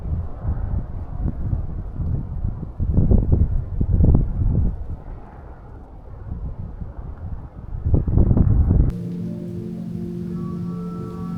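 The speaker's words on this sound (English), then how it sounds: "It's cold and windy." Wind buffets the microphone in rough gusts, loud low rumbling swells rising and falling, then a steadier tonal hum takes over near the end.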